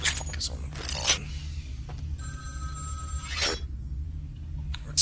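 A telephone rings in the game Vampire the Masquerade: Bloodlines, trilling in repeated bursts over a low humming background, with someone talking now and then over it.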